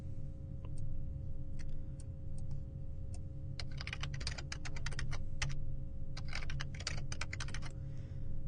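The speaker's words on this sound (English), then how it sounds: "So I'm going to type in a weak password." Someone types a password on a computer keyboard, with scattered single key clicks that build into quicker bursts of close, crisp keystrokes over a low steady hum, with no voices.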